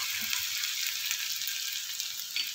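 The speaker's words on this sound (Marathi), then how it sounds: "यामध्ये 1/2 टीस्पून आलं लसूण क्रश केलेलं घालते आहे." Crushed ginger-garlic sizzling in hot oil in a small tadka pan, an even, close hiss and crackle with no talk.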